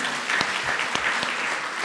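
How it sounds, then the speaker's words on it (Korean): Audience clapping after a lecture at a shared-growth forum in Korea: dense, steady applause from a room of people, close and even throughout, with a voice faintly audible underneath. "다시 한번 큰 박수 부탁드리겠습니다"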